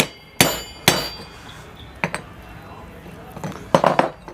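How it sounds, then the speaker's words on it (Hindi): A hammer knocking on the metal base of a mixer grinder jar during a repair, giving about seven sharp, close metallic strikes in small clusters separated by short pauses. "थोड़ा सा वो और ठोक दें।"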